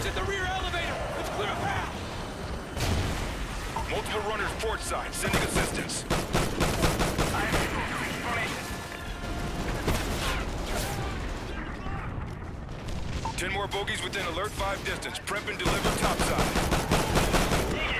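Dense, continuous automatic gunfire with explosions rolls through a firefight in the video game Call of Duty Ghosts. Loud bursts overlap throughout, and a player talks over the shooting in Turkish.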